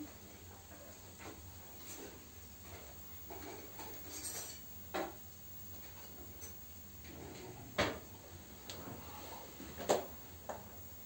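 A serving spoon and dishes clink and knock softly in a village kitchen, with a few sharp metallic taps rising over a faint, hissy background.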